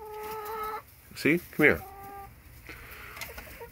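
Backyard laying hens give drawn-out clucks and two loud, sharp squawks close by, with more soft clucking after, while a person speaks briefly to them.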